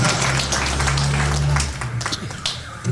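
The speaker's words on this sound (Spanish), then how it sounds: "Venga la palma, fuerte por favor." Audience applause fills a 50th birthday party, loud and steady for a couple of seconds with music tones underneath, then tapering off into a quieter room.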